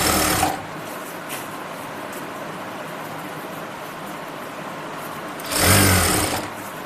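A sewing machine stitches elastic onto a palazzo waistband in two short, whirring bursts, one at the start and one near the end, with near silence between.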